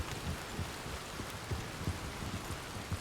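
Steady rain falls with a dense hiss and scattered drops pattering close by, no voices.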